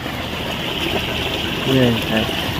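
A steady gush of well water pouring out, like a pumped flow, with faint voices and a low engine hum mixed in, in a village.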